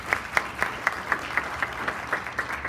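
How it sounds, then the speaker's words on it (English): An audience gives a steady round of rhythmic clapping at a diocese communications workshop, moderately close and without voices over it. "How about a round of applause for"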